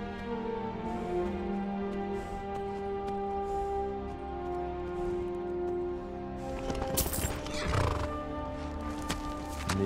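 A saddled horse in Skyrim gives a clear whinny, with hooves clopping and shuffling near, over a steady game backdrop and no talk.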